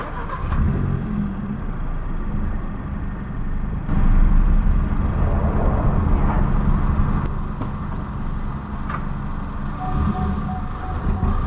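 A 2023 Kia Forte GT engine cranks and fires up on fresh oil after an oil change, then settles into a steady, fairly loud idle that drones on close by.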